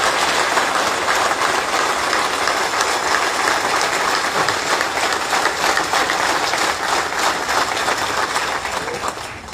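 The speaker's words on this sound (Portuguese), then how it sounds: "Muito obrigado a vocês e uma grande salva de palmas." Sustained crowd applause at a political candidate presentation in Vizela, dense steady clapping from many people throughout, loud and continuous with no talking.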